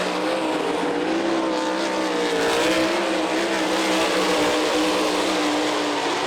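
Sprint cars at a dirt oval race in Eldon, Iowa roar nose to tail through the turns, a loud, continuous, droning engine howl with steady pitch and no letup.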